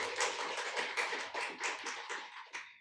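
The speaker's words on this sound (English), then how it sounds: "a warm round of applause as well" An audience at a poetry reading gives a warm round of applause: dense, close clapping of many hands in uneven surges that fade out near the end, with no voices on top.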